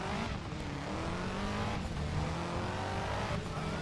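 Audi Quattro rally car engine in the racing video game Driver San Francisco, a continuous loud engine drone with rising revs and hints of tire squeal, with no talking.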